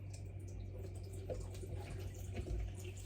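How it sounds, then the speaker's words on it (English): Water runs steadily from a kitchen tap while someone washes their hands, a constant close splashing hiss with faint clatter behind it. "I'm going to wash my hands."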